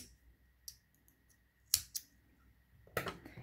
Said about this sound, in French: Donc je coupe un peu de fil